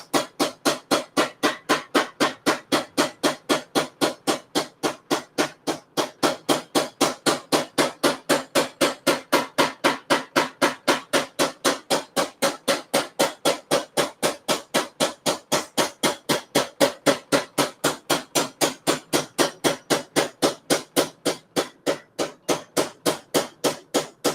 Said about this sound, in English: And it's so precise where he hammers.